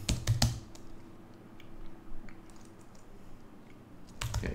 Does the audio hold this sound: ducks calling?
no